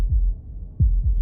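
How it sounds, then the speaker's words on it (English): Heartbeat effect from the video game Slay The Princess: three deep, muffled low thumps, loud and close, in an otherwise quiet moment with no speech. "That was the sound of a heartbeat"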